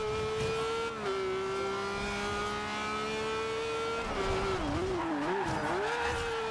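Race car engine in Forza Horizon 2 tearing through the final corners of a circuit, its loud, continuous tone rising and dipping as it shifts and brakes, with tire noise as the car turns in.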